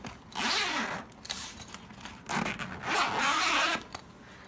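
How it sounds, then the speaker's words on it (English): A zipper pulled open along the top panel of a soft cat crate, two long rasping runs separated by short pauses and small scrapes, close and fairly quiet with no talking. "On the top, there's another zipper panel."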